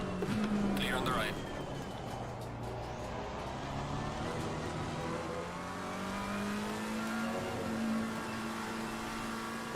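Race cars roar at close range on the Kyalami circuit in Assetto Corsa Competizione, with a steady engine drone and shifting revs as a Mercedes runs nearby, under continuous talk.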